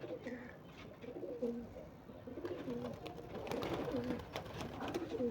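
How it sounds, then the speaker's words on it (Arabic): Pigeons cooing inside a loft, with repeated soft low coos overlapping from several birds, fairly faint, along with light rustling and background noise. "الحمام طبعا كان محبوس وفتحنا له زي ما انتم شايفين كده"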